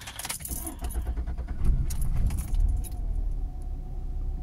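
Keys jingle and a 2005 Nissan Altima engine cranks and catches, settling into a steady low idle up close as the car is readied for a test drive.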